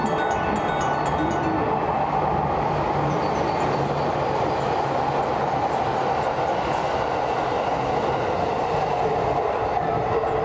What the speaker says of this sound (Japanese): A train will soon be passing through track 2.